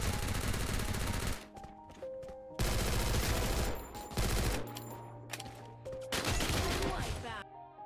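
Bursts of rapid automatic gunfire in a first-person shooter video game come in several loud fusillades separated by short pauses, with a player talking at times.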